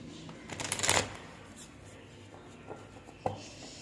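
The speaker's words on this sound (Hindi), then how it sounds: "जब तक मैं कार्ड्स को शफल कर रही हूं" Tarot cards are shuffled close by, a brief flurry of riffling and rubbing followed by quieter card handling and a sharp tap, with faint background noise.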